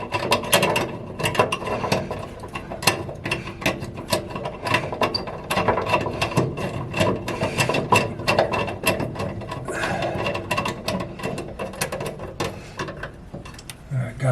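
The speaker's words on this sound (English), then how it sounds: "I double nutted these studs so I can screw them in." Double-nutted studs being screwed into threaded holes with a ratcheting tool, giving a long run of rapid mechanical clicking and metallic ratchet sounds, close and fairly loud and continuing without pause.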